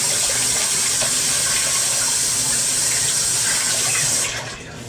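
Tap water runs in a strong, steady hiss close by, a continuous stream that cuts off just before the end.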